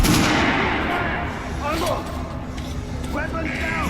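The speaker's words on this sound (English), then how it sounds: "Head over to my range and try out those guns." Gunshots ring out at a shooting range in the video game Metro: Last Light Redux, several loud reports with echoing tails spread over a few seconds, while people talk underneath.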